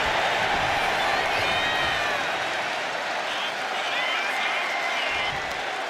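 Arena crowd from a WWE 2K25 Hell in the Cell match roars steadily throughout, a dense wash of cheering and applause with scattered whoops, loud and continuous without a break.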